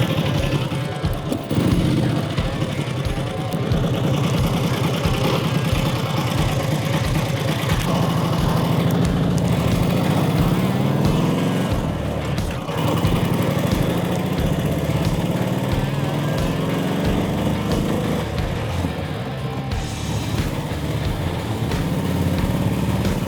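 A 90-year-old foot-shift motorcycle engine drones steadily while being ridden up a curving road, a loud, continuous close engine note under rushing wind, with no talk.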